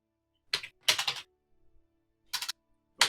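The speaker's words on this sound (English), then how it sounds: "he's typing." Keys on a computer keyboard clatter in short clustered bursts separated by pauses, close and crisp in an otherwise quiet room, with no speech.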